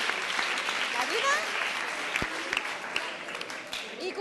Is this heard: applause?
yes